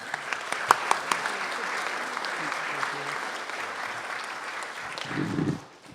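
A crowd at a homecoming ceremony gives a round of applause for artist Melanie Schambach, a few sharp early claps swelling into steady, moderately distant clapping that fades out at the end with a brief low rumble.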